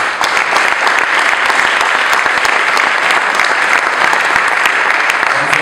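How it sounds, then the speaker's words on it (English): A council meeting audience claps in a steady, even burst of applause, close and fairly loud, lasting several seconds without pause. "Allies, give yourself a round of applause."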